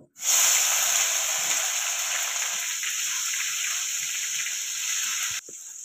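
Finely chopped tomato fries in hot oil for a village-style egg curry, giving a loud, steady, close sizzle and hiss that runs unbroken for several seconds before cutting off abruptly near the end.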